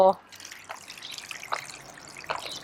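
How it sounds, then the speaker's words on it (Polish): Water poured into a sand-toy funnel leaves a few separate, faint drips falling at a slow, irregular pace after a brief splash at the start. "nalewam tu wody, troszkę może cieknie po kropeleczce, ale jak puszczę mocny strumień"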